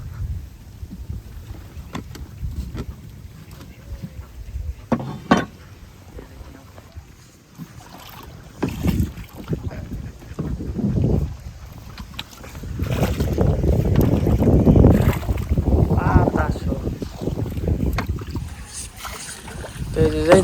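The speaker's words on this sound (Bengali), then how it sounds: "যাইতেছি নৌকা নিয়ে" A rowboat moving along a village canal, with steady low water and wind rumble that swells louder midway and voices talking over it.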